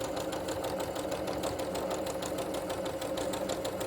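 Sewing machine stitching a hanging tab onto a quilt, a rapid, steady mechanical whir and needle clatter running continuously at close range.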